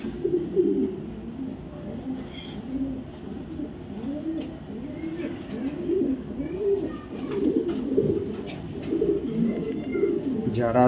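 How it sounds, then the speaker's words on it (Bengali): A black racer cock pigeon of a foreign racing line, ringed BRPOA 2023, coos close by in repeated rolling, throaty phrases that rise and fall steadily for the whole stretch. "এখানে দেখাবো একটা অরিজিনাল বিদেশি কোয়ালিটির একটা ব্ল্যাক রেসার, একটা নর কবুতর।"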